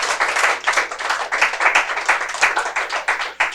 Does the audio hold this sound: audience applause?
yes